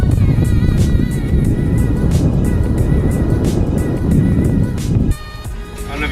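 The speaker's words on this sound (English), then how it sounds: "we have to drive down this dirt road for like over half a mile" A car on a half-mile dirt road test drive, its engine and tyre rumble loud and steady throughout, with the noise dropping somewhat near the end.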